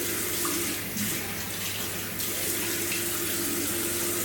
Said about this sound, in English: Get that warm water running.